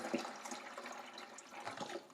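Water poured from a tea kettle into a Gevi nugget ice maker's reservoir, a soft, steady splashing trickle of liquid heard close up and fairly faint, with no one talking.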